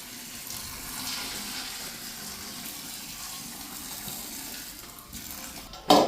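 Boiling water gushes steadily into a bucket of mushroom pellets, making a continuous rushing pour that runs for several seconds and ends with a brief louder splash and knock.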